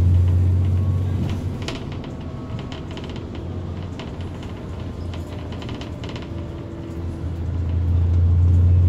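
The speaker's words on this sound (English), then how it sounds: "listen to that sweet, sweet engine of this lovely bus" Low, steady engine drone of a Stagecoach Dennis Trident 2 ADL Enviro 400 double-decker bus heard from inside, swelling at the start and end with clicks and rattles over the hum.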